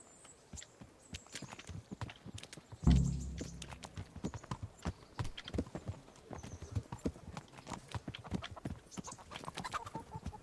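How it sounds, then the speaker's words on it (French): Horse hooves in the medieval video game Kingdom Come: Deliverance, a quick steady clip-clop of several animals moving together, with a sharp thud early on and a faint whinny. "Le cheval il est en jambe hein."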